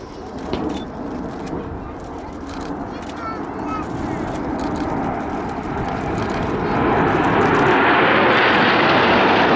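Red Arrows aerobatic jets fly in formation at an air show, a distant jet roar that builds steadily to a loud, broad rumble as they pass, with a commentator speaking over it.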